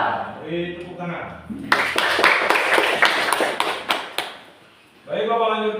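Indonesian seventh-grade maths class clapping together on cue from the teacher, a dense burst of hand claps lasting about two and a half seconds, framed by the teacher speaking before and after.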